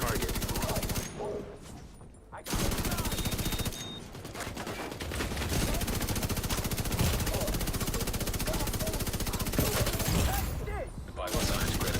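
Sustained light machine gun fire in Division 2, loud and dense, with brief pauses between long bursts across the whole stretch.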